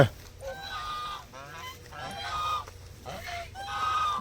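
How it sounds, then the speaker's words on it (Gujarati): Several geese honk repeatedly at moderate distance, nasal calls coming in uneven bursts over a low background rumble. "જો આ હંસ"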